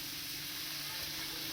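Onion and cumin hit hot oil in a pan during home-style goat liver (kaleji) cooking, giving a steady, even sizzle and hiss that carries on without a break, with no talking.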